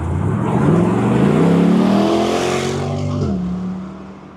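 Full-throttle acceleration of a C8 Corvette's 6.2-liter V8, a loud, close engine roar climbing steadily in pitch, then a brief dip at an upshift before it pulls again and fades slightly.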